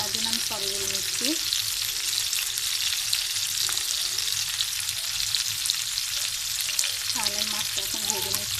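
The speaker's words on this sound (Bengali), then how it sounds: "তাহলে মাছটা এখন ভেজে নিচ্ছি।" Hilsa fish frying in a home kitchen pan for a pointed gourd curry, a steady dense sizzle running throughout with a few faint clinks and tonal kitchen sounds over it, no talk.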